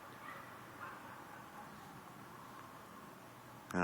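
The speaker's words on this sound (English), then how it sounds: "All the dogs are barking." Several neighborhood dogs bark faintly in the distance in Passaic, New Jersey, their calls thin and scattered beneath a steady outdoor background hiss.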